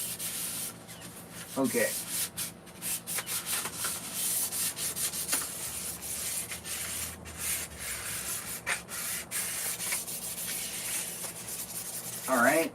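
Steady rasping of sandpaper rubbed back and forth on wood, close up, with a brief spoken word near the end.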